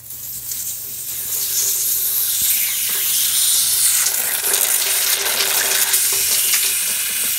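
Water leaks from a cut copper pipe in a steady, close, hissing spray that swells slightly and holds, with no speech over it.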